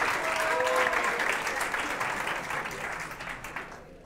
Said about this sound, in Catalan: Som-hi, aplaudim eh